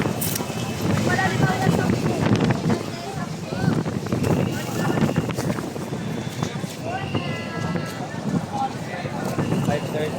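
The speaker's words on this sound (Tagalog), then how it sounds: "lakas ng hangin" Steady, blustery wind roars throughout at the Divisoria market, with busy outdoor commotion and people talking beneath it.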